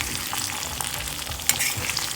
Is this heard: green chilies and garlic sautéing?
yes